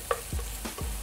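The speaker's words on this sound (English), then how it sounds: "Crush them with your wooden spoon." Tomatoes frying over medium heat are crushed with a wooden spoon, giving a few soft, close squelching presses and scrapes over a steady sizzle.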